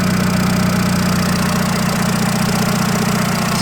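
A 2007 Seat Ibiza 6L with the 1.4 engine idling, a close, loud, steady mechanical hum with a faint rhythmic tick, unchanging throughout and with no voices.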